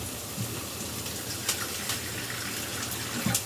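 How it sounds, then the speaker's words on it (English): Water poured into a bowl of Korean pancake batter, including sourdough batter, a steady soft splashing trickle running throughout, fairly close, with a couple of brief louder splashes and no talking. "So we've got some water in, but we need some more."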